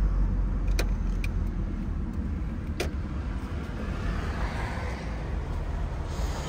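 An Opel Ascona convertible rolls to a stop, its low engine rumble and road noise easing down, with a couple of sharp clicks or clunks from inside the cabin.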